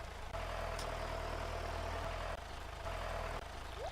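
A tractor engine idles steadily in the farming game Stardew Valley, a continuous low rumble with a faint hum that holds at one level for the whole stretch, with a couple of brief dips.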